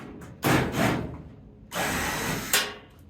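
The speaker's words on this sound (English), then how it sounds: "we're going to do is take off these two bottom panel screws" A power drill backs out the bottom panel screws on a Frigidaire Kenmore dryer: two separate whirring bursts, each under a second long, close by with a short pause between them.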